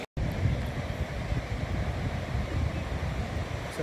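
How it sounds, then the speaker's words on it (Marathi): Sea waves roll in at Shiroda Beach on the Konkan coast, a steady broad roar of surf mixed with wind buffeting the microphone, with no voices. "निळाशार समुद्र आहे शिरोडा बीचचा."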